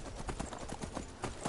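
Horse hooves clip-clop in the Skyrim video game, a steady rhythmic trot of soft thuds at moderate volume, heard alone without talk.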